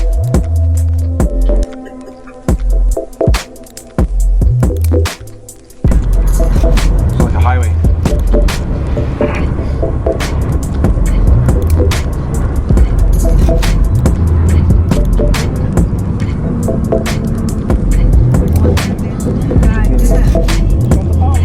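A car cruising along a fast highway in Brazil gives a steady, loud rumble of engine and road noise, with rushing wind and passing traffic throughout, and a brief dip near the start.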